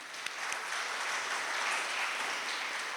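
Audience applause honouring a children's Hindi drama group after their performance of the play Haddi, steady dense clapping from a crowd that holds for the full stretch without talk.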